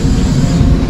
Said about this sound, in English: Seems to be a smaller train.